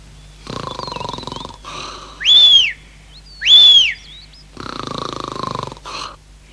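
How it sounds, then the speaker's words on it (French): A cartoon character snores loudly like a chimney: two loud whistling snores, alternating with rasping, broadband breathing-in snores, in a slow, steady rhythm, near and alone. "Il ronfle comme une vraie cheminée."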